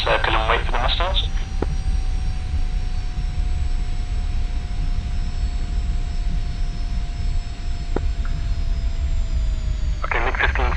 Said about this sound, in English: Okay, MiG-15 spooling up.